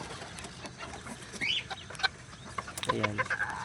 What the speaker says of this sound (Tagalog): ito na yung sisiw ng ating button quail